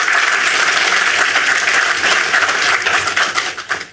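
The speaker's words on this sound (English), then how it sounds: "A round of applause to Mr. Francois." Loud, dense applause from an audience at a government launch of micro, small and medium enterprise loan grants, sustained before tapering off into a few scattered claps at the end.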